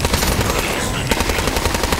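Rapid, loud bursts of automatic turret gunfire in Borderlands 3, close and continuous with a dense rattling rhythm throughout.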